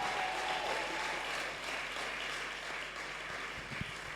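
A church congregation applauds steadily throughout, a dense, sustained wash of clapping with no break and no talking over it.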